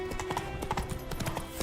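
Geralt's horse Roach trots in The Witcher 3, a quick run of close hoofbeats with a brief snort.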